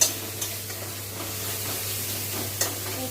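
Ginger-garlic paste sizzling in a hot pan while being stirred, a steady soft frying hiss with a few sharp scrapes of the spoon against the pan, fairly quiet and with no talking.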